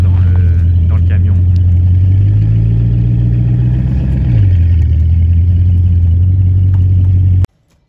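A Bugatti Chiron rolling up into a car transport truck, its engine a loud close rumble that swells and dips with a brief rise in revs midway before cutting off abruptly at the end.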